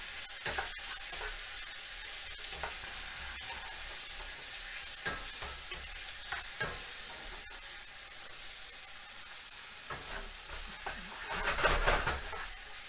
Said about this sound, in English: This is kind of a small stir-fry pan. Just trying to pre-cook the onions.